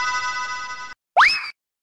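Phone ringing after a call is placed: a steady electronic tone that stops, then a short rising chirp after a brief pause, loud and close with no talk.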